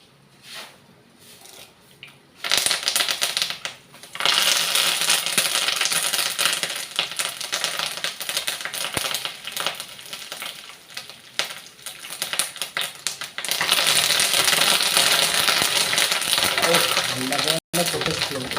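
Curry leaves hit hot oil used for a mango pickle and splutter loudly after a quieter start, a dense run of close crackling pops that briefly drops out near the end.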